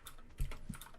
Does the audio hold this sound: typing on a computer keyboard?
yes